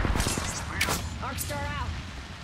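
Thermite grenade going off in the Apex Legends video game: a short burst of crackling, booming blasts with rising whooshes, heard at moderate loudness amid ongoing game noise.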